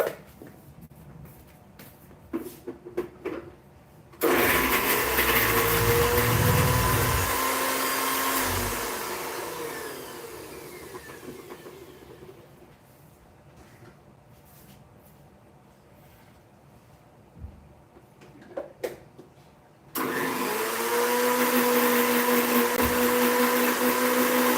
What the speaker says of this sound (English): I'm just going to grind it to make a paste.